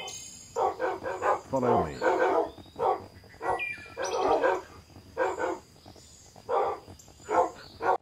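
Pet guard dogs in a Clash of Clans parody game styled after Minecraft give a run of short, evenly spaced barks, some closer and louder, with a brief spoken line mixed in.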